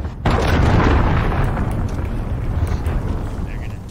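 A cruise missile explodes in the video game Call of Duty Modern Warfare, a loud, close blast that hits suddenly and then rolls into a long, sustained roar of debris and rumble, with voices talking over it.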